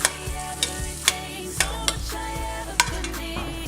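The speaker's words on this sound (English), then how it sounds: "Okay, the mushrooms have caramelized. Now we're going to add the garlic, salt," Caramelized mushrooms with garlic, salt and pepper frying in a pan, a steady close sizzle broken by a series of sharp scraping stirs of a utensil against the pan, with no voices.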